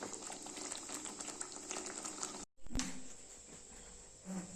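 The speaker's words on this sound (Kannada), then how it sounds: "ಇದೊಂದು ಎರಡು ಕುದಿ ಕುದ್ದಿ ಹಸಿ ವಾಸನೆಲ್ಲ ಹೋಗಿ ಆಮೇಲೆ ಆಫ್ ಮಾಡ್ತೀನಿ" Coffee boiling in a pot on a home stove, a steady dense bubbling hiss that cuts out briefly near the middle and then resumes a little quieter.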